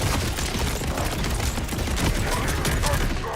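Dense, continuous gunfire in Borderlands 4, a steady roar of overlapping shots with no break, loud and close throughout.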